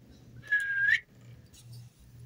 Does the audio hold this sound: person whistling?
yes